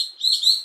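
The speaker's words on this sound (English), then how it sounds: "Lorikeet." A lorikeet, a small parrot, lets out a single high, thin, piercing call lasting under a second, close and clear with nothing else around it.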